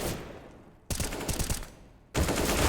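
A Nova pump shotgun in CS:GO fires loud, close blasts, one at about the first second and another near the end, with shell and pump clatter and faint rapid shots between them.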